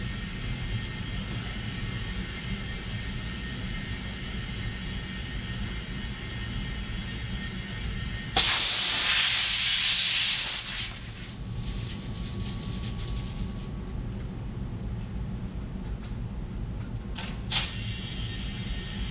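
Air hisses loudly from a tire inflator into a 22 inch tire during an at-home tire change, a steady rush lasting about two seconds before it cuts off, set against a constant low background hum.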